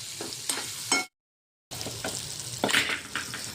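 Green chillies sizzle and fry in besan batter in a pan with stirring, loud and close, broken by a brief silent gap before the frying resumes.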